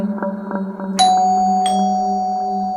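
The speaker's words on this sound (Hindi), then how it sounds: "तभी डोरबेल बजी।" A doorbell chimes twice, a bright ding-dong ringing out and lingering over a low steady hum.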